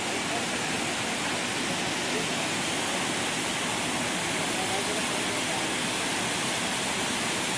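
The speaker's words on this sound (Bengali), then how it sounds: "সেফ জোন, দশম জলপ্রপাত, রাঁচি" Steady, loud roar of Dasam Falls near Ranchi, Jharkhand, a broad continuous rush of falling water filling the whole scene with no pauses, people bathing somewhere within the constant wash.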